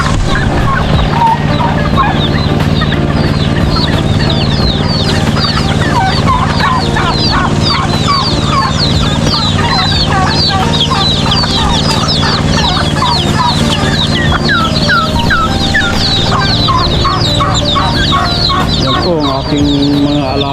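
A crowd of farm chickens cluck steadily and a rooster crows now and then at feeding time, filling the air loud and close from start to finish.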